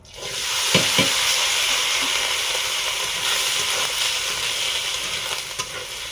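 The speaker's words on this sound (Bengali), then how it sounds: "ওই তেলে গাজর, বিনস, মটরশুঁটিগুলো ভেজে নেব।" Carrots, beans and peas hit hot oil and fry with a loud, steady sizzling hiss, a couple of stirring knocks early on, continuing without any voices.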